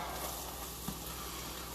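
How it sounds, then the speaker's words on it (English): Bay leaves and thyme frying in a pan, a steady soft sizzle throughout with one tiny pop near the middle, heard alone without voices. "It's weird that I'm frying a dried spice"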